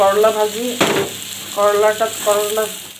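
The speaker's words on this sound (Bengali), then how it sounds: "এখন আমরা ফেটানো ডিমটা দিয়ে দেব।" Beaten egg frying with bitter gourd in a hot pan, with loud bursts of sizzling and a sharp crackle as the egg hits the oil, alongside stirring and clattering against the pan.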